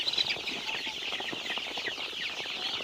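Young 21-day-old country chicks cheep and cluck in a steady, busy chorus close by, many overlapping high calls continuing throughout with no talk.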